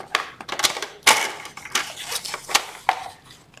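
Tape being cut for a chipboard mini album presentation box, heard as a series of sharp crisp snips and rustles in quick irregular succession, close and moderately loud with no talking.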